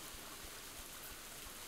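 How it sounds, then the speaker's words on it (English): Steady broadband rush of a waterfall in the farming video game Gleaner Heights, a continuous even wash of falling water with no voices over it. "Again, it's not the winds. It's the waterfall."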